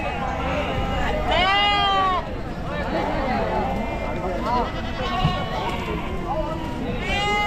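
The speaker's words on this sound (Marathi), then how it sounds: "हा जो मेंढ्यांचा ग्रुप पाहतोय आपण जो मेंढ्यांचा एका ग्रुपची एका वेळेस विक्री होते एका ग्रुपमध्ये बारा मेंढे असतात ते बघा" Sheep bleat loudly at a crowded sheep and goat market in Chakan, Maharashtra, where they are sold in groups of twelve. Several wavering cries rise over a constant din of crowd chatter and movement.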